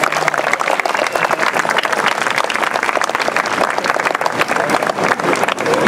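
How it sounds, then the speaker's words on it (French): A warm round of applause from an outdoor audience at a film screening at Place de la Paix in Montréal, loud, close and dense clapping that carries on steadily with a light crowd murmur. "si vous pourriez les applaudir chaleureusement"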